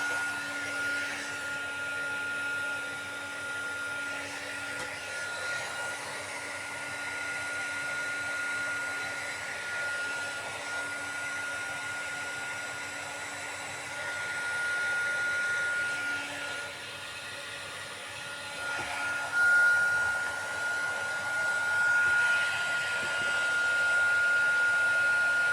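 Heat gun blowing steadily on heat-shrink tubing while fitting a new chuck handle for an old EMCO lathe, a continuous airy whine with a steady tone that holds for the whole stretch, fairly close and moderately loud.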